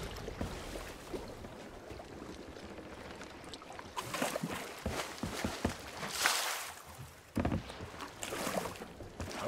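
Pirate ship in Sea of Thieves sailing after running aground, with creaking wood, sloshing water and bumps rising and falling, alongside scattered thuds and surging splashes.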